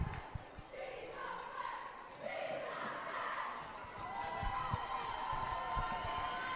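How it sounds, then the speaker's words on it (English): Murmuring crowd noise fills a gym at a cheerleading competition, with cheers rising and falling, scattered thuds and footsteps, and voices talking across the room at moderate distance. "And we're going to just have a lot of crowd noise here today."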